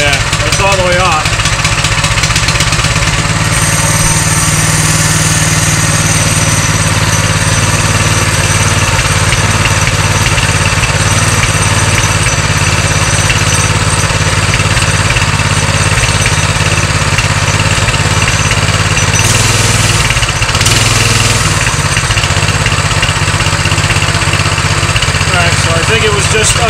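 A Coleman BT200x mini bike's small engine runs steadily at idle for the whole stretch, loud and close with a constant droning rumble, while people talk over it.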